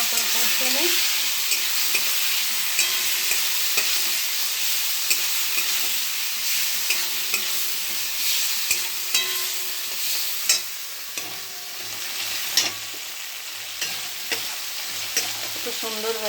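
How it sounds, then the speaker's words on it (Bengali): Potatoes and ground spice paste sizzle as they are stir-fried in oil, a constant close frying hiss broken by scattered clinks and scrapes of a spatula against the pan, with no voices. "আলু দিয়ে ভালো করে কষে নিই।"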